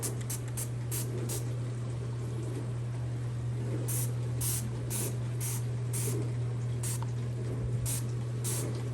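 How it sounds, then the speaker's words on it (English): An aerosol can of foam oven cleaner hisses in a series of short and longer bursts, spraying foam inside a self-cleaning oven over a steady low hum. "So you just spray it, comes out like a foam."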